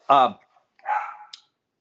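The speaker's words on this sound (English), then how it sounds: "if you hear the barking dogs in the background" A dog barks twice in quick succession, a sharp bark followed by a rougher, breathier one, fairly close and with nothing else around it.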